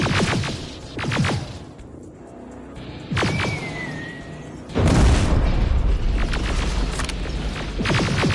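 A pipe bomb in the video game Terminator Resistance goes off in a deep, heavy boom that lingers as a loud rumble, following scattered game noises and a whistling tone.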